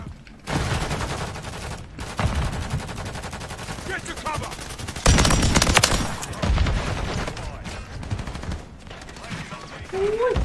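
A PKP light machine gun in Call of Duty MW3 fires long sustained bursts, loud rapid rattling that stops and restarts several times with brief pauses between strings of shots.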